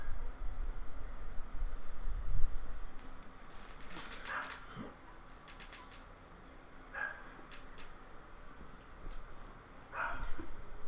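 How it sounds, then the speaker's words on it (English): A dog barks a few times at a distance over low room noise during a live stream, in short separate bursts rather than a steady run. "Sorry about the dog barking."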